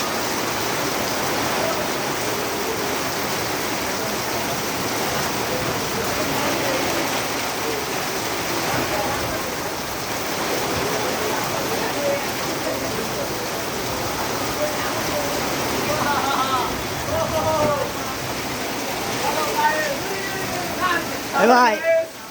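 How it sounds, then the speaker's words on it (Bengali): Heavy rain pouring over a village bazaar in Sirajganj, Bangladesh, a dense, continuous hiss of drops on surfaces, steady and close, with people's voices talking intermittently underneath. "দারুণ বৃষ্টি হচ্ছে।"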